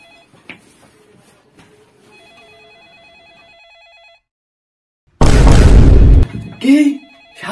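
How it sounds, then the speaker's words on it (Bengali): A mobile phone rings with a faint, repeating electronic ringtone in a quiet room during a comedy sketch, followed by a sudden loud burst of noise and a short vocal sound. "হুমায়ুন, শাহরুখ খান ফোন করেছে।"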